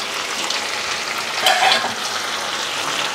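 Potato and cauliflower curry sizzles and crackles steadily in a hot pan while a spoon stirs through it, with a brief louder scrape and hiss midway.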